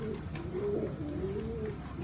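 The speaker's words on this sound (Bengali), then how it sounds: "এই কবুতরটা, এই বাচ্চাটা, আর একটা বাচ্চা আছে পায়রা" Pet pigeons cooing close by, a low repeated throaty warble in soft rolling phrases, continuous over faint background noise.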